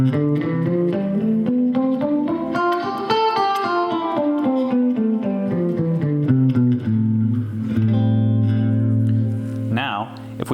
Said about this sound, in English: the 6th mode of the major scale is called Aeolian, and it sounds like this.